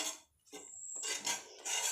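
A lemon is rubbed over a roti griddle (tawa) to clean it, making close, scratchy scrubbing noise with a short pause and light metallic clinks, and no voices.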